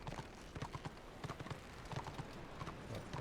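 Horse hooves clip-clop at a steady trotting rhythm in the Warhammer Online video game, close and fairly loud with no talking over them.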